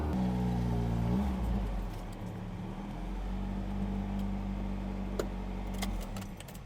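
A car engine drones steadily at close range, with the low, harsh roar of a vehicle under heavy throttle as it pulls into a workshop. A few light metallic clinks sound above it.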